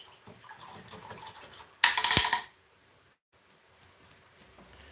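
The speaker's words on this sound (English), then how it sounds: "so you guys can hear the swishing of the water." Brush swished in a cup of paint water during a painting session, a brief burst of close, bright splashing and clinking lasting under a second amid quiet room tone, followed by a few faint taps.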